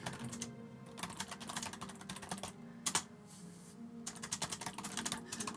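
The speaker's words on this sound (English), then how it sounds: "Oh crap, my typing." Typing on a computer keyboard while playing Morrowind, rapid bursts of close clicking keystrokes with a short pause and a sharp tap midway, then another quick flurry, no talk.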